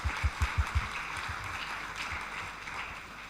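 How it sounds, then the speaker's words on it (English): A crowd applauding at the Next Gen Geophysics 2025 event, with a few loud, evenly spaced claps up front dissolving into a softer, steady patter of clapping that gradually thins out. "let's have a big round of applause of all"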